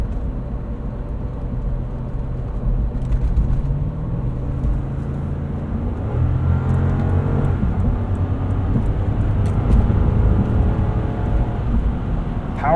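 Steady engine drone and road roar from a 2012 Lexus GX 460 SUV with about 150,000 miles, driving over Michigan roads, with tire noise throughout at a constant close level.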